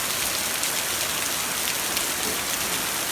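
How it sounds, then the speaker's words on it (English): Hail comes down with heavy rain in a dense, steady hiss of pelting ice and drops hitting surfaces outdoors, loud and continuous with no talk. "You don't see this very often, but there's hail coming down."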